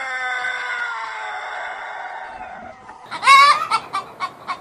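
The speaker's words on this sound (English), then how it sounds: "It's chicken." A chicken clucks up close, first a long drawn-out harmonic call, then a burst of sharp, rhythmic clucks near the end, loud and alone.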